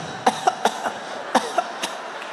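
Several short, sharp imitated coughs from a stand-up comedian come in two loose clusters, fairly close and moderately loud, over a faint background hiss.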